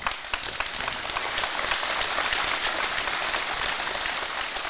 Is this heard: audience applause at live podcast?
yes